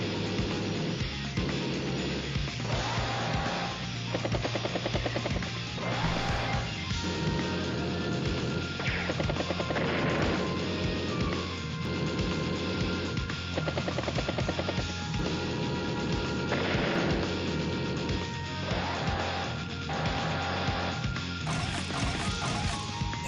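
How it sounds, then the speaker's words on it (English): Anti-air artillery firing on a bomber in Advance Wars: Days of Ruin, a dense, continuous barrage of repeated crashing bursts and rumbling impacts with a rhythmic, pulsing texture and no talk. "Anti-air artillery. Good strike on the bomber."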